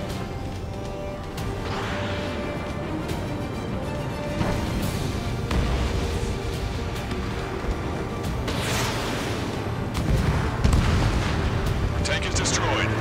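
Explosions and gunfire in the video game Ace Combat 7 as a tank is destroyed, heavy rumbling booms and bursts layered over a dense battle din, with radio voices.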